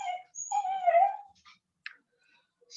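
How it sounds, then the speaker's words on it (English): A pet dog whimpers and whines indoors in the background, a few high, wavering cries followed by a brief yip, faint and alone without talk. "I'm sorry if you hear my dog in the background."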